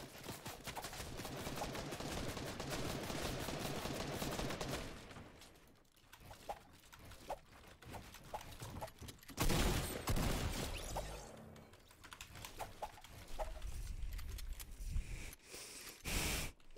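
Gunfire in an arena solos shooter game, with rapid bursts of automatic fire and scattered single shots coming in several clusters, loud and close, with short quieter gaps between exchanges.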